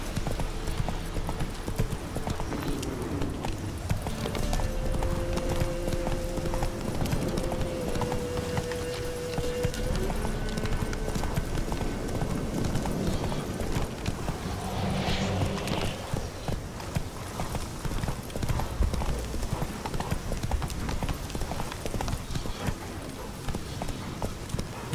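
Horse hooves clip-clopping in a steady rhythm during riding in The Witcher 3 video game, close and continuous for the whole stretch, with soft tonal game sounds drifting underneath.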